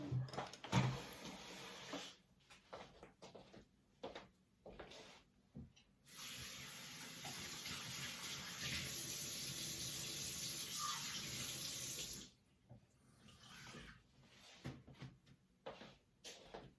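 A water tap runs steadily for several seconds while changing paint water, framed by brief clatters and splashes of handling before and after, fairly close and without talk.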